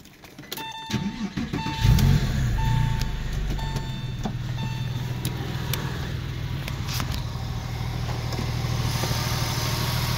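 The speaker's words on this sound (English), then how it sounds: "I'm gonna start it up right now." A car engine cranks and catches about a second in, then settles into a steady, smooth idle with no misfires. It sits close and fairly loud with no talking.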